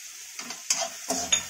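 Chopped onion and finely cut green chillies frying in a pan, with a steady close sizzle broken by several stirring scrapes and clatters.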